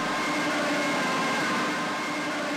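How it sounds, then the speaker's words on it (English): Sustained, steady wailing tone of a Junkers Stuka's Jericho siren in Flight Simulator X, loud and continuous throughout with a constant engine drone beneath, no voices. "That sounds like the Jericho sirens"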